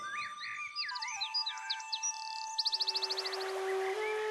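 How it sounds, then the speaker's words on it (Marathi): Small birds chirp at a riverbank at dawn, trading quick varied tweets and whistles before one breaks into a rapid, close-sounding trill. "पक्ष्यांच्या या चिवचिवाटाला इंग्लिशमध्ये चिर्पिंग म्हणतात."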